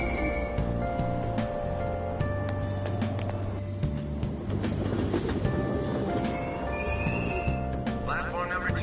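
A train departs a station in the video game Persona 5 Royal, with rolling rail rumble and clatter under a steady hum, while a voice speaks over it.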